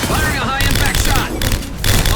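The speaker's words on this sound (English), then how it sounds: "Firing a high-impact shot!" Dense, loud weapon fire from the Mass Effect 2 video game, a high-impact shot among rapid overlapping bursts and booming blasts that keep up a continuous battle din for the whole stretch.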